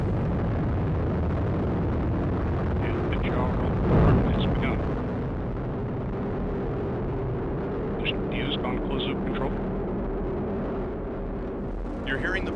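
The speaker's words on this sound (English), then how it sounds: "We have RD-180 ignition, and we have liftoff of the United Launch Alliance Atlas V rocket carrying EchoStar 19." An Atlas V rocket with its RD-180 engine lifts off carrying the EchoStar 19 satellite, a dense, steady roar filling the whole stretch. A louder burst swells near the middle, and light crackles flicker above the rumble.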